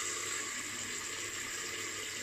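Hot water running steadily from a tap into a sink, a continuous close hiss and splash with no talk over it.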